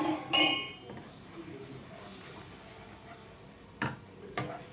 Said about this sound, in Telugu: ఇది వేసుకొని ఉండలు కట్టకుండా కలిపేసుకోవాలి